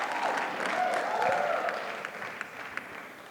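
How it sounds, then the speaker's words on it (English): A gala audience at a fundraising event claps in a sustained wash that gradually thins and softens toward the end, with a few scattered louder claps near the close. "I love that you're clapping."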